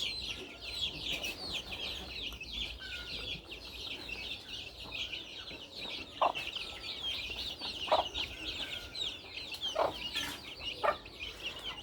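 Steady, soft clucking of a broody hen close by, with occasional short louder calls breaking through a quiet outdoor background.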